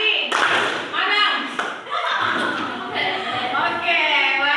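A class claps in short rhythmic bursts during a counting clap game in a classroom, the patter mixed under voices chanting and talking throughout.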